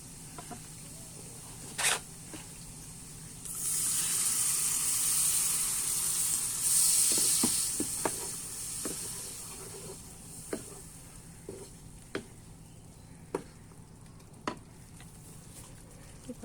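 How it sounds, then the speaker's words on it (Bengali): Masala spices sizzle in hot oil as a little water is poured in, a loud steamy hiss swelling for several seconds before settling into softer bubbling with scattered stirring clicks. "এতে সামান্য পরিমাণ জল অ্যাড করব।"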